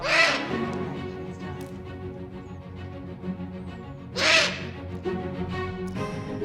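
A large captive owl at an aviary gives two loud, harsh calls, one at the start and another a few seconds later, close by over a steady background hum.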